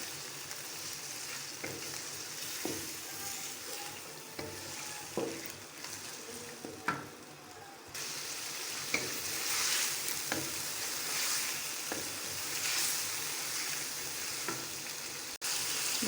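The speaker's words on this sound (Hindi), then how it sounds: "अंदर अदरक लहसुन और सब्ज़ मिर्च का पेस्ट ऐड करते हैं। दो से 3 मिनट हम इसको भून लेंगे।" Ginger, garlic and green chili paste fries in a pan for a potato and meat curry, a continuous bright sizzle broken by occasional clinks and scrapes of stirring.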